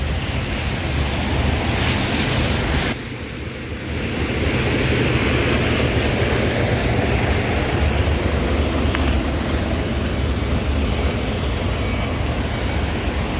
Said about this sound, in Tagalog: Kaya lang naulan na naman. Huwag lumalakas.